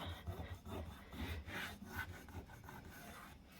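Faint rhythmic scraping as a thumb rubs grime off a wooden baseboard, repeated short strokes, close and quiet with no voices.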